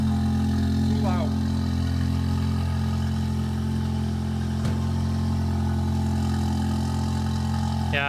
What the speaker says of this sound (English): That's the sound. Loud.